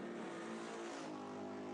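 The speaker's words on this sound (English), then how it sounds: "You can hear the RPM difference from Ricky Childress Jr. and Colby Quinton." Race cars in an SMS Live points race scream past at high revs, several engines layered with differing RPM pitches, loud and steady throughout with no talking.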